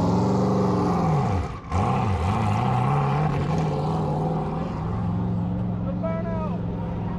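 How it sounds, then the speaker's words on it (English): Supercars leaving a street takeover revving hard and doing burnouts, a loud continuous engine roar with a dip and surging pitch swings. "everyone as they leave is doing crazy burnouts, revving their engines super high right on the way out the door"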